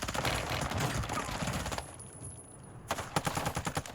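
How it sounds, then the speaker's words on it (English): Automatic gunfire in a Warzone 2 gunfight rattles in rapid, loud bursts, breaks off for about a second, then resumes with sharp repeated shots. "Decent shots, really a decent gunfight from both enemies."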